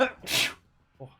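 One sharp sneeze sounds close by, followed a moment later by a short spoken exclamation.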